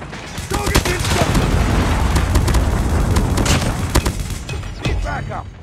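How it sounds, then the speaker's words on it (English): Gunfire and blasts from Call of Duty Mobile on a firing range map, with dense rapid shots and booming impacts running continuously and loudly, an incoming Predator missile strike among them, while game voice announcements sound over the barrage. "Hostile Predator missile inbound."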